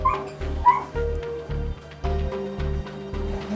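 A sick dog poisoned by chocolate whimpers and gives short yips and barks at a vet clinic, a steady pulsing rhythm of distressed cries under a low hum.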